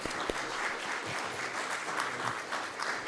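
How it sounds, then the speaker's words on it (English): Warm audience applause for presenters at the close of a public presentation and Q&A, a full, steady round of clapping from a crowded room, moderately close and continuous throughout. "Let's give a welcome, an exit applause for our amazing speakers."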